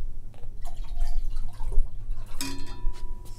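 Water pours into a glass jar at a science center, a close trickling and dripping stream with a brief bright clink partway through, moderately loud with no talk over it.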